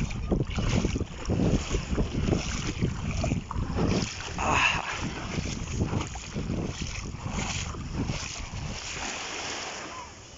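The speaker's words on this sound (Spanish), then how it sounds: "Las hermosas olas." Sea waves wash steadily at the port of Veracruz, a continuous broadband rush mixed with heavy wind buffeting the microphone, fairly loud and close throughout with no clear pauses.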